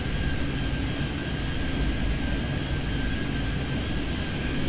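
Airplanes in the airport control game Airport Madness 3D at San Francisco give a continuous broadband jet engine roar with a faint steady whine, loud and unbroken with no talk.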